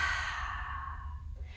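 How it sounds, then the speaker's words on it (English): A single long, full exhale during yoga breathing, close and soft, flows out steadily and fades toward the end. "on your next exhale, try to get rid of all the air that you have inside of you."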